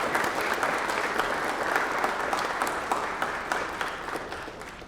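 An audience at a military retirement ceremony claps in sustained, dense applause that holds steady and then tapers slightly toward the end, with no speech over it.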